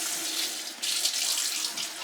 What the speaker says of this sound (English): And fill this up with water